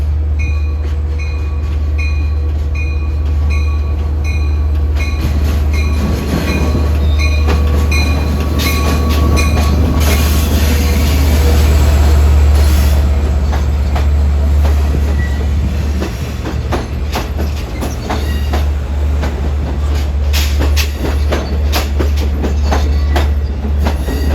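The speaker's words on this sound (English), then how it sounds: "here comes the equipment for train 2772, Jamaica to Patchogue" Long Island Rail Road equipment for train 2772 rolls into Jamaica station on a windy day, a loud sustained rumble with rhythmic wheel clicks over rail joints, occasional squeals and a low steady drone from the passing cars.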